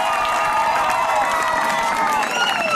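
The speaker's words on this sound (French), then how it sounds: "Allez, applaudissez." Crowd clapping steadily with some cheering voices at a public gathering in Bas-Congo, a continuous wash of applause throughout.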